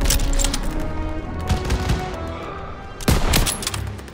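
Heavy World War II battle gunfire in Call of Duty WWII, loud dense automatic fire with a fresh burst near the end, rolling on without pause and with no talk over it.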